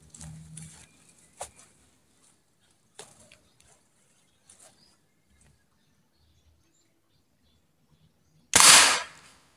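A butane-powered marble toy gun fires at a tin can: a single sharp, loud burst near the end, preceded by a few faint clicks and handling noises in an otherwise quiet setting.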